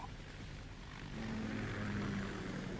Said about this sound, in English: KA-60 Kasatka. Kasatka? Kamov chopper, right?